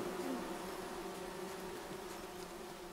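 Bees buzzing around a hive in the game Among Trees, a steady, moderately close insect drone that holds unbroken for the full few seconds with no talk.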